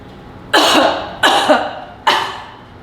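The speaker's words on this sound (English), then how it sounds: "Breath in through your pursed lips, give it a hold, and then 3 coughs." Three forceful coughs during a lung-clearing breathing exercise, close and loud, each separated by a brief pause.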